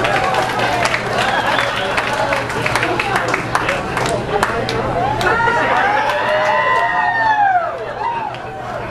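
A live benefit show crowd applauding and cheering for comedian Perry Kurtz, steady sustained clapping and whoops with chatter, fading near the end.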